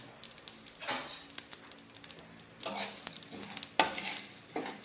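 Seeds are stirred and fried in a pan with curry leaves and tamarind, giving a soft sizzle under intermittent scraping strokes of a spoon against the metal.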